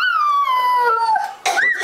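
A voice imitates a dog, giving a single long, wavering howl-like cry that falls in pitch, followed by a short yip-like rise at the end, loud and close.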